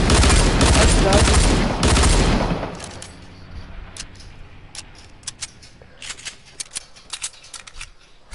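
Rapid, loud video game gunfire crackles in a dense burst for a few seconds, then gives way to scattered sharp, quieter shots and clicks spaced irregularly in the background.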